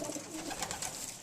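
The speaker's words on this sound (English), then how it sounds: "This is my young bird team." Young racing pigeons coo softly in their loft, a low, steady murmur of bird calls under faint background noise, with no voices.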